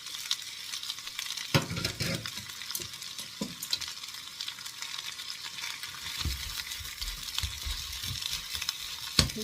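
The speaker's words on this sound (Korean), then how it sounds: "들깨기름을 이렇게 팬에다가 넉넉히 둘러줬습니다. 그리고 이렇게 시래기 나물을 넣어주세요." Dried radish greens stir-fried in a pan with a generous pour of perilla oil: steady hissing sizzle throughout, with scraping stirring noises and occasional louder clatters from the utensil.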